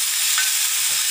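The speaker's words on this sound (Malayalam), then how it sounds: "ഇങ്ങനെ വഴറ്റി കൊടുക്കാം" Pieces sautéing in ghee in a pan for a Kerala ada recipe give a loud, steady sizzle, with a brief stirring scrape near the middle and no voices.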